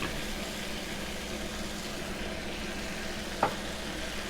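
A plant-based Impossible burger patty frying in avocado oil in a pan, a steady broadband sizzle throughout with one brief clink partway, close up and without speech.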